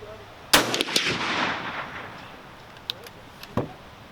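Savage Model 24 combination gun chambered in 30-30 and 12 gauge fired at an outdoor range: one sharp, loud blast followed by a rolling echo, then a few fainter clicks and knocks.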